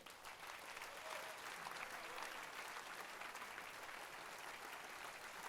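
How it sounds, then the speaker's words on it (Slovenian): Concert audience applauding at a brass band's 120th-anniversary gala concert, a steady, dense wash of clapping that holds evenly throughout without pause. "Naš naslednji aplavz pa naj bo zlati"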